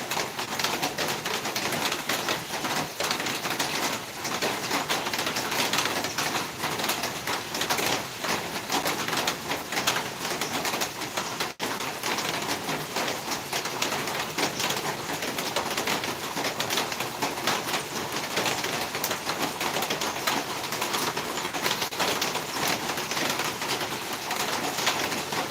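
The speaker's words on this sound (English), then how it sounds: "Just enjoying those sounds of the rain." Steady, dense rainfall patters without pause, a loud, even broadband hiss with fine crackling drops, close by and uninterrupted for the whole stretch.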